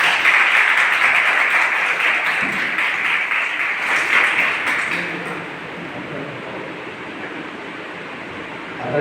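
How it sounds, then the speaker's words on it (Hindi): Students at a school stage event clap loudly together in a dense burst of applause that fades into quieter room noise about halfway through. "एक बार अपने लिए जोरदार ताली बजाएंगे।"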